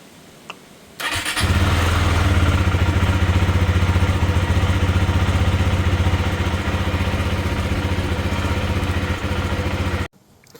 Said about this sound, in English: we're just gonna start the bike up to get the oil warmed up so we can get it out a bit quicker